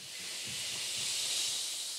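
White noise from a white noise generator hisses like steam as a steady, bright, even wash that swells slightly and then holds, on its own without voices.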